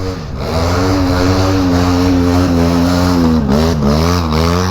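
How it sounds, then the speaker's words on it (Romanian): A snowmobile engine, running oddly, runs steadily and loud nearby, its pitch wavering slightly as the throttle shifts, with no voices. "Băi, dar ciudat s-aude motorul."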